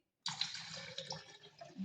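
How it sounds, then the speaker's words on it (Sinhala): Water runs steadily into a container while a homemade drink is mixed, a close, continuous splashing pour that begins abruptly after a short silence and carries on to the end. "වතුර දාලා"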